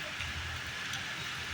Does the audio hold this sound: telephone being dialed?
no